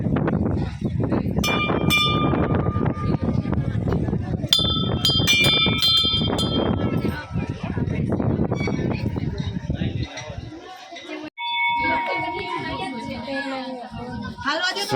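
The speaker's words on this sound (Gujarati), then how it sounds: "ઘંટડી વગાડો." A temple bell at Hargangeshwar Mahadev in Diu rings in a series of bright metallic strikes, close and clear, with people and children talking around it.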